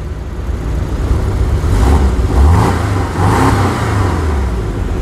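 A Porsche 718 Cayman engine revs in its most aggressive drive mode, giving a loud, close, throaty rumble that climbs and falls through two or three surging blips over a steady idle, with no talking.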